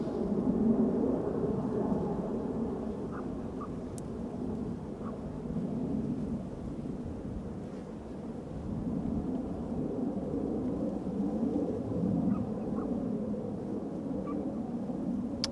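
An Airbus A320neo airliner arriving at Amsterdam Schiphol from Alicante, heard as a continuous low, distant rumbling roar that swells and eases slightly over its length, with no talk.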